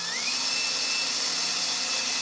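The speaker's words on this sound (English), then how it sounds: "So I'm not drilling in too far is what I'm trying to say." A power drill bores a pilot hole for a screw to attach hairpin furniture legs, a steady high whine that rises in pitch at the start and then holds continuously, close and loud.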